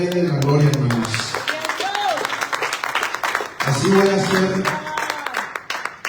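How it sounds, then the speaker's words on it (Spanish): Congregation applauding during a church service, the clapping mixed under a voice that talks through most of it. "Denle un aplauso al Rey de la Gloria, hermanos."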